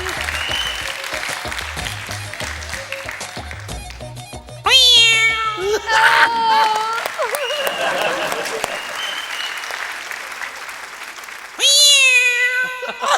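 On a comedy stage show, a performer's voice imitates a cat meowing and yowling over a fish head, with loud, drawn-out, wavering cries in two bursts, separated by crowd applause and chatter.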